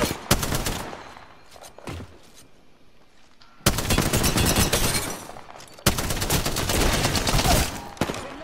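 Gunfire in the Apex Legends video game: bursts of rapid shots crack out loud and close, with a quieter lull in the middle before heavy sustained volleys resume.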